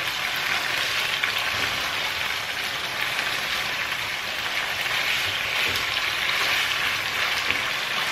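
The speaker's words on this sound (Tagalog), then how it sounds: "Parang ipiprito-prito natin siya." Food fries in hot oil in a pan, giving a steady, dense, close sizzle that holds evenly with no pauses and no talking.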